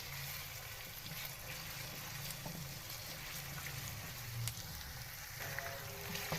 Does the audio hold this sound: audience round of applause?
no